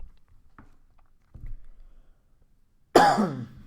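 A single sharp, loud cough near the microphone, after a few seconds of faint low rustling and quiet.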